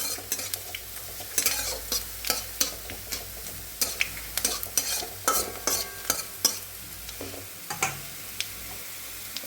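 Vegetables frying in hot oil with panch phoron tempering, a steady close sizzle broken by sharp, regular clinks and scrapes of a spatula stirring against the pan.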